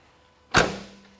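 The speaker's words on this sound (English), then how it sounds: "Door closes nice on the passenger side as well." A single solid thump as the passenger door of a 1987 Buick Grand National shuts close by, followed by a brief low rumble fading out and a faint click.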